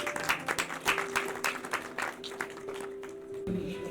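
An audience at a book launch event claps to welcome a guest of honour, with brisk, rhythmic applause from a modest crowd that thins and softens toward the end.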